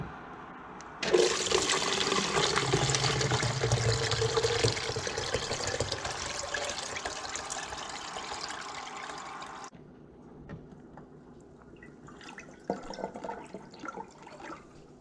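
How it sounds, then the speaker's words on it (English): Homemade pineapple tepache pouring through a strainer into a pot, a steady loud liquid rush for about nine seconds that thins to lighter trickling and dribbling afterward. "I'm going to get a strainer so I can start separating the pineapple and separating all of the ingredients for my tepache into my pot"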